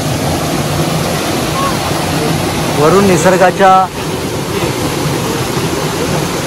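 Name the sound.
natural waterfall flowing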